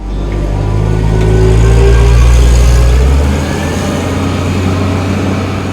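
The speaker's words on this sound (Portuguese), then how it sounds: "o matador volta pilotando uma empilhadeira" A forklift engine drives through a warehouse, a loud, steady low rumble that holds for about three seconds and then drops to a lower, quieter drone.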